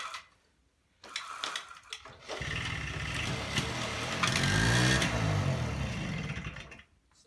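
A cold Honda Hobbit moped on choke cranks with a few short sputters, then catches and runs with a loud rough engine note that rises in pitch before cutting off, close by.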